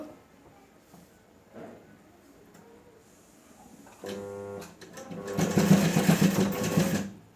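A sewing machine stitches a blouse with a faint hum that grows into a loud, steady rapid stitching run near the end, with a few short mechanical clicks before it.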